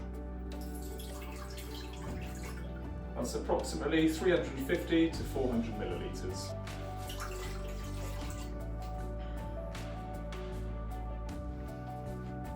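Water poured into a Crockpot Express pressure cooker, a short gurgling splash in the middle of the clip, with a person talking over a steady background hum.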